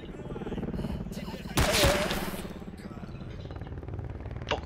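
Gunfire in the S.T.A.L.K.E.R. Call of Misery video game, with a loud burst of shots in the middle, scattered distant reports around it and a person talking over the action.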